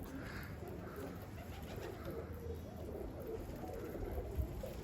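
A çakmaklı pigeon coos softly in low, repeated murmurs under a steady outdoor background hiss, fairly faint and without clear talk.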